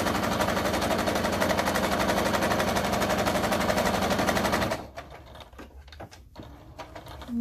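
Sewing machine stitching crossbody bag fabric in a steady, rapid mechanical chatter that runs for several seconds, then stops, leaving quiet handling noises.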